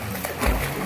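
Water splashing as someone bathes in a hot spring pool, a brief close splash and slosh in under a second.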